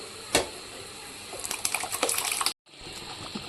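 Water poured into a pan of mashed pav bhaji vegetables coloured with beetroot, a sharp splash followed by a steady gushing pour for about two seconds, then a brief pause and faint sloshing.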